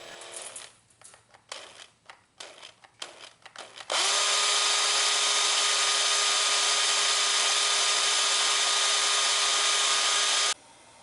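An old AMT drill press drills into a piece of aluminum alloy, giving a loud, steady high whine that runs for about seven seconds after some brief clatters and handling noises, then stops abruptly.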